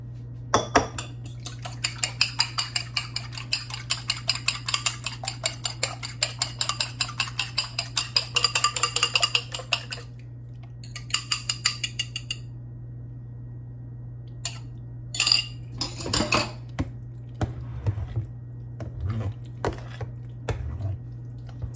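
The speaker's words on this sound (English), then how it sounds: "I will get these cracked and beat and put into that mixture." Eggs cracked and beaten in a bowl for vegetable lasagna: rapid, steady clinking of a fork or whisk against the bowl in long runs, then a pause, a short burst, and a few louder knocks and taps near the end.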